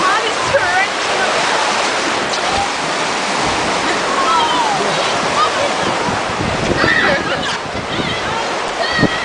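Rushing, torrential water crashes loud and constant around a river rapids ride at Alton Towers, with wind buffeting the microphone and excited voices shouting now and then over the roar.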